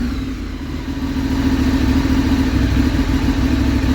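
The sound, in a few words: Ducati 848 Streetfighter motorcycle engine running after Rapid Bike install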